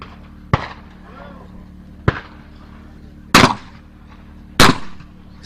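Four loud, sharp shotgun reports ring out at a clay target shooting competition, in two pairs a few seconds apart. Each has a quick decaying tail over a low background hum.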